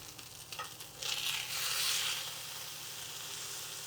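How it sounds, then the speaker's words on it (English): Steak searing in a hot pan, a lean cut, giving a steady broadband sizzle that swells into a louder hiss midway, then settles into a constant crackle close by with no talking. "We're already getting a really nice sear on this side."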